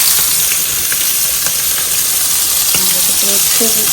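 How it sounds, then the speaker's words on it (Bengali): Pabda fish frying in hot oil, a loud, dense, continuous sizzle and hiss close by, with a faint tonal hum and a few brief knocks toward the end. "পাবদা মাছ একসাথে ফ্রাই করতেছি"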